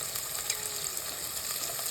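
Turmeric tipped into a hot frying pan and stirred, giving a steady close sizzle with faint scraping, no voices present.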